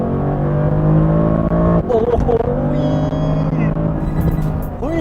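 A Mercedes-AMG GTC convertible accelerating hard in its sportiest mode, its engine roaring loud and steady from inside the cabin as very fast gear changes briefly break the drone and pitch climbs again, with someone talking excitedly over it.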